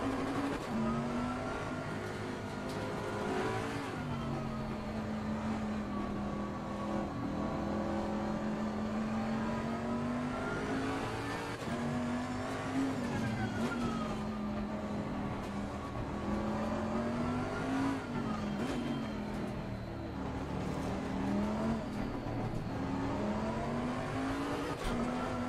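Bentley GT3 race car engine at Barcelona in Assetto Corsa Competizione, a loud steady drone that rises and falls through gear changes with occasional tire squeal, continuous and alone.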